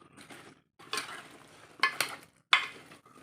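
A taro stem and raw banana curry with added water is stirred in a pan, a few short scraping and clinking strokes separated by brief quiet gaps at low level.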